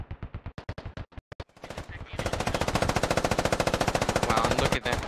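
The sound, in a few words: machine gun fire during a squad battle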